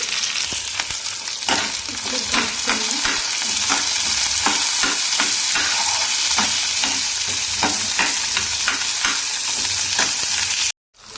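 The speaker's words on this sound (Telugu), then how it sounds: "ఆనియన్స్ బ్రౌన్ కలర్ వచ్చేంత వరకు వేగాలి." Steady loud sizzling of onions frying in a hot pan, with repeated scraping and stirring strokes throughout, no talking.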